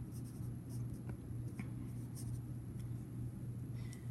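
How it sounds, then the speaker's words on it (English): A pencil writes on paper in short scratchy strokes, faint and close, over a steady low background hum. "I will write down the word for you"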